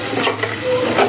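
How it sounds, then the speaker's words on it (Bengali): Chopped onion hitting hot oil in a pan on the stove, a loud close continuous sizzle with light stirring. "চুলায় আগে থেকে কিছুটা তেল বসিয়ে দিয়েছি। এখন দিয়ে দিব পেঁয়াজ কুচি।"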